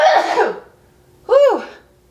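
A single person's sneeze, from someone in a kitchen blending a drink with milk: a noisy burst, then a short pause, then a sharp voiced release, close and loud, with no talk.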